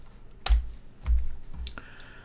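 Copy and paste shortcuts are pressed on a computer keyboard: about four crisp, close key clicks, each landing with a soft low thump, spaced roughly half a second apart.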